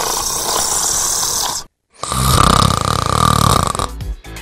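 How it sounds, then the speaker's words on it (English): A person's loud, rasping snoring is recorded up close; two separate snores with drawn-out guttural breaths are split by a brief silent gap, and no talk is heard. "we asked the listeners of the radio morning show to send audio files of their partners snoring"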